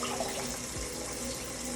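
Tap water running into a kitchen sink while sea moss is rinsed, a steady close hiss of flowing water with no speech.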